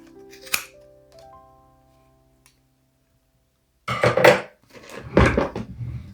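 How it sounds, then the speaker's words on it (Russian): Large scissors cut through crochet yarn with a single crisp snip early on, followed by a quiet lull and then a few louder bursts of handling noise. "Разрезаю большими ножницами."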